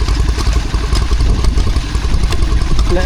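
Several small vintage stationary engines run together at a country show, a loud, close, continuous low chugging with rapid rhythmic clatter and no break.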